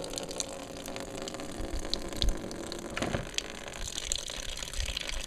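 Water trickles and splashes from an opened drain cock on a MerCruiser 3.0 marine engine during a teardown, a steady close running-water sound with scattered clicks and clanks of workshop handling.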